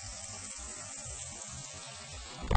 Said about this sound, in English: This is Mr. Chee Chee's new waterfall